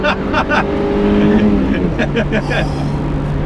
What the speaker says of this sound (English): You really got to wring the engine out, use every single rev available